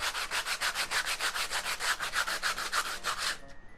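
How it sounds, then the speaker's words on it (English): Sandpaper rubbed by hand over a plaster-coated clay pot in quick, steady back-and-forth strokes, about five per second, close and fairly loud, stopping abruptly near the end. "That's why I have actual sandpaper."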